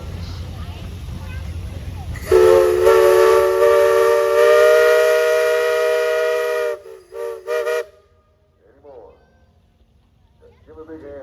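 A steam traction engine in a steam and threshing show parade blows a loud, sustained steam whistle for several seconds, then gives a few short toots, and faint voices follow in the quiet afterward.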